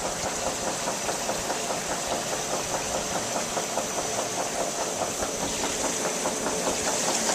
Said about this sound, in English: Our big pump is pumping out all of this this must and juice right now.